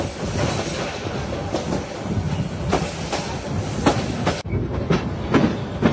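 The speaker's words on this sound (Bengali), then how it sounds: "আমাদের ঢাকাগামী মহানগর গৌধুলী এক্সপ্রেস ট্রেনটি এখন অল্প সময়ের মধ্যে ঢাকা রেল স্টেশন প্রবেশ করবে।" Mohanagar Godhuli Express rolling into Dhaka's Kamalapur railway station, heard from on board: loud steady rumble with repeated clickety-clack wheel beats over rail joints and brief squeals.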